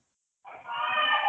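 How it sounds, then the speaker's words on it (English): A baby screams in short rising bursts, a fairly loud, strained cry that starts abruptly and holds on, with no one speaking over it. "I don't know if you can hear that screaming baby in the background"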